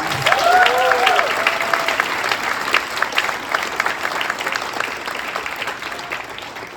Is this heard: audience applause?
yes